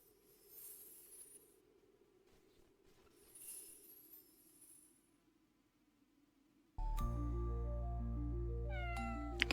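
A white cat meows twice in the video game Miaugical, soft and high with quiet pauses between, before game music with bright chiming notes starts up.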